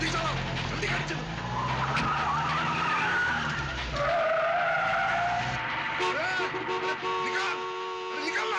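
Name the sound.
car driving fast, tires skidding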